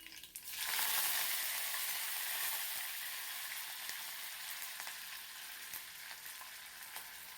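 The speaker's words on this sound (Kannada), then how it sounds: "ಹಾಗೆ ಸ್ವಲ್ಪ ಜೀರಿಗೆ, ಇವಾಗ ಕರಿಬೇವನ್ನ ಸೇರಿಸ್ಕೊಳ್ತಾ ಇದ್ದೀನಿ" Cumin seeds and curry leaves frying in hot oil, a loud steady sizzle that bursts up within the first second and keeps crackling evenly to the end with no talk.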